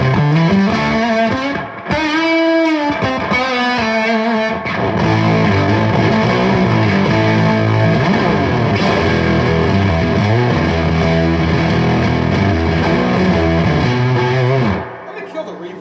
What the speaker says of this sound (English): I've got a JHS 3 Series fuzz here.